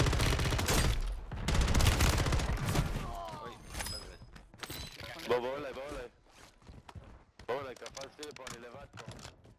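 Gunfire crackles in a shooter video game, with a dense burst of rapid shots at the start, then fainter intermittent sounds while someone talks over it.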